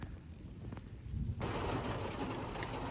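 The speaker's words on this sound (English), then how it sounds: "it just started raining, which feels really good because it's been really hot here" Rain starts falling outside a parked van, a faint patter that swells abruptly into a steady, close, fairly loud downpour hiss with a few sharp drops on the roof.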